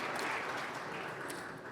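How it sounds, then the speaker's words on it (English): Steady broadband clapping from a crowd, a continuous wash of applause at moderate level with no voices standing out. "A round of applause to thank them all."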